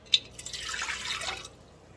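A cup of water poured into the pan of a Kitchen Arm 29-1 bread maker, a soft click followed by a brief steady splashing stream lasting about a second, close and quiet with no talk.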